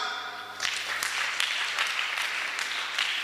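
A church congregation bursts into applause after a short quiet lead-in, sustained clapping from many hands that carries on for a few seconds.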